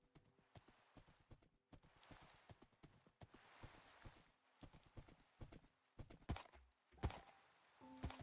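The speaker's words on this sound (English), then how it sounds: "this horse is nice and fast" Rhythmic clip-clop of horse hooves galloping in Minecraft, with repeated quick thuds and occasional neighs, close and prominent over a quiet background.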